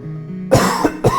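A cough bursts out three times in quick succession, close and loud, after a stretch of low steady background hum.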